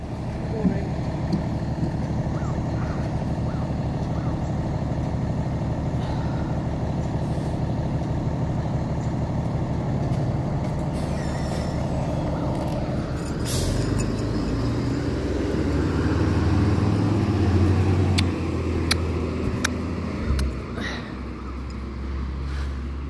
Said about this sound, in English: they're probably stopping at the work truck